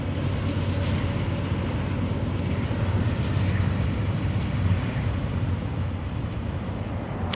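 A Florida Midland short line freight train rumbles past, its heavy low drone steady and fairly loud throughout with no voices over it.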